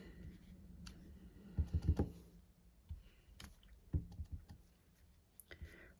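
A rubber stamp is pressed several times onto scrap paper, making soft irregular thumps and taps, some in quick clusters of three or four, quiet and close against a faint room background.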